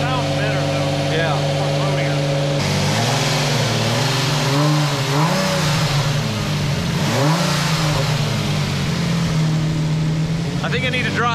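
An Audi R8 engine idles loudly and then revs in several rising and falling swells close by, with people talking over the engine note.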